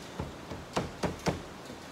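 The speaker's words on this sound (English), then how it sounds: "Pop this door card back in." Car door card being pressed back into place by hand, a series of five dull knocking thumps as the panel clips snap in, close and fairly quiet with no talking.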